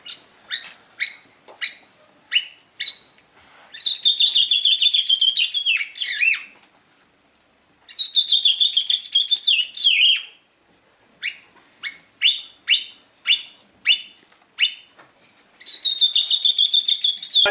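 A person imitates bird songs, whistling runs of short, sharp chirps that alternate with long, warbling trilled phrases in a steady, loud, close performance with no talking.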